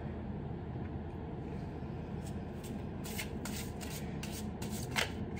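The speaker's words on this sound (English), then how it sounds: "So let's shuffle your cards and see what affirmation comes up to" A deck of oracle cards is shuffled by hand indoors, a quiet run of soft riffling flicks over a low steady background hum, with no talking.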